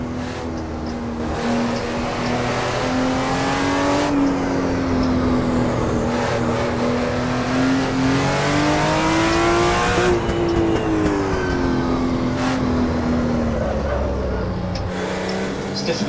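Assetto Corsa race car with a damaged gearbox: a loud, strained engine holds long revving notes that rise and fall unevenly between abrupt gear changes, tires squealing at times, with no voices.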